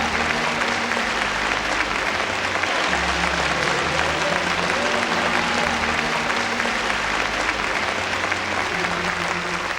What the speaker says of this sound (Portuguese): Um aplauso para o Senhor.